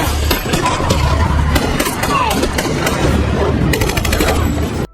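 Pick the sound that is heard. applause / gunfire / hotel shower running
gunfire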